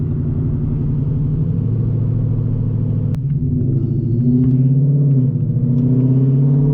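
A Whipple-supercharged Mustang GT with long tube headers accelerates hard in a loud, sustained pull, its deep rumbling exhaust droning steadily and rising in pitch, with a sharp click partway through.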